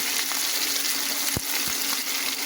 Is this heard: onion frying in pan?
yes